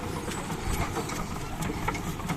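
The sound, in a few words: John Deere 5075E three-cylinder turbo tractor engine idling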